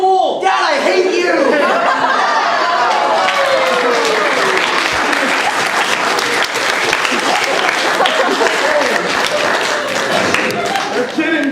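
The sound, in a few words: applause from an audience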